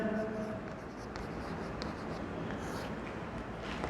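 Chalk or marker scratching on a board during a Hindi-language class 11 mathematics lecture, a steady quiet writing texture with faint room noise and no speech.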